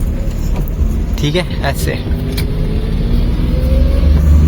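A Maruti 800 car turns at a roadside bend, its low engine hum steady and close throughout, with someone talking briefly over it.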